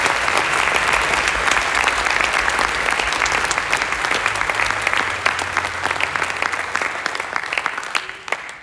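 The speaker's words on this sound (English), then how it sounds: "So give a round of applause for them." An audience applauds at a community band festival, with dense, sustained clapping from a large crowd that holds steady for several seconds and then begins to thin and fade toward the end.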